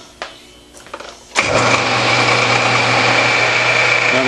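A lathe set up for tailstock cross drilling spins up after a few light clicks and knocks, then settles into a loud, steady motor hum with a high whine.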